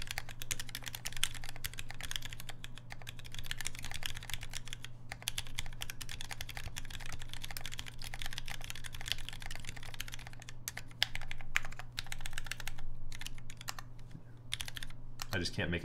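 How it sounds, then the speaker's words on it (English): Steady, close-up typing on a Fjell mechanical keyboard fitted with Gateron Tangerine switches, a continuous run of crisp keystrokes over a low constant hum, with occasional louder clacks near the end. "Let's get a typing sounds test on this."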